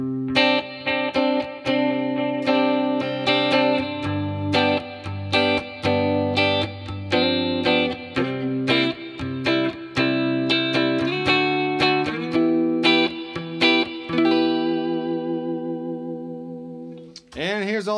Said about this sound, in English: Here's a clean tone with a little bit of reverb.